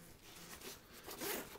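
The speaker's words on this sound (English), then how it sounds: "Large zippers, well made." Large zipper on a Spec-Ops T.H.E. Pack heavy-duty nylon backpack, one quiet close rasping pull that swells toward the end.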